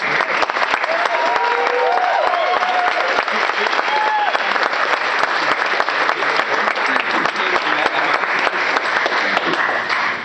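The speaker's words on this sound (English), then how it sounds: "give a real round of applause for the 25th anniversary of the Guitar Center" Loud, sustained applause from an audience at a Rock Walk induction ceremony honoring Jane's Addiction, steady dense clapping with scattered cheers and whistles throughout, no pauses.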